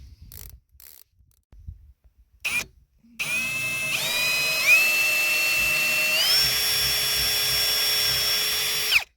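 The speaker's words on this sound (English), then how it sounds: "Switch over to a drill bit, and then drill some pilot holes." A power drill bores pilot holes for a doorknob, spinning up to a loud, sustained whine that shifts pitch as the bit bites in, after a few light clicks and handling taps.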